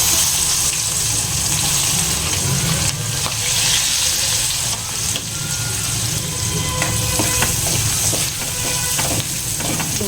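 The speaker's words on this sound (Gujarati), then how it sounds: "ડુંગળીની સરસ એવી સાતરી લેવાની છે." Finely chopped onions sauté in a hot pan with oil, giving a continuous loud sizzle and frying crackle with occasional stirring scrapes, no voices over it.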